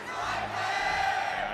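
A large live crowd roars at a StarCraft II tournament final, a sustained, dense wash of cheering and shouting from many voices, steady and fairly distant.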